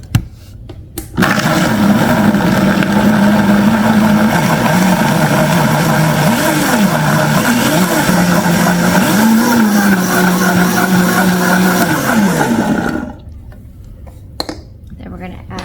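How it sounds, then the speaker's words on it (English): A blender whirs loudly, blending beets, strawberries and apple juice, starting abruptly after a second and running with a wavering motor pitch for about twelve seconds before cutting off, followed by faint knocks. "We're going to blend this up."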